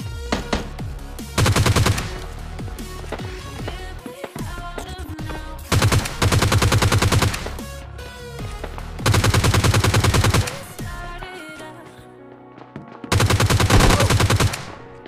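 Bursts of automatic gunfire from the PUBG Mobile Lite video game, four loud sustained volleys of rapid shots separated by quieter gaps with background game sounds.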